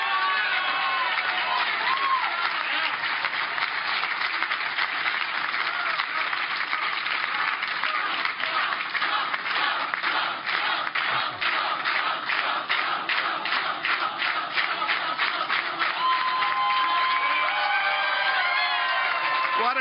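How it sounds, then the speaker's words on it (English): Large crowd at a political rally cheering and applauding, sustained loud clapping with rhythmic unison claps partway through, whoops and shouts mixed in throughout. "What a crowd, what a crowd."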